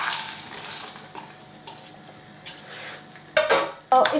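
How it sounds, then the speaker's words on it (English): Cut trimmed green beans and sweet corn hitting a hot pan, giving a soft steady sizzle with a few sharp clatters of utensils near the end. "Put in my cut trimmed green beans. And put in my sweet corn."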